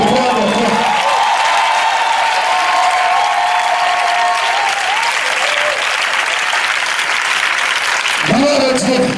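Applause and cheering from a church congregation fill the space continuously and loudly, with shouting voices over the clapping before a voice rises near the end.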